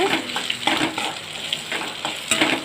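A bunch of curry leaves and four dried red chilies sizzle and crackle in hot oil, with loud continuous frying broken by repeated stirring scrapes in the pan.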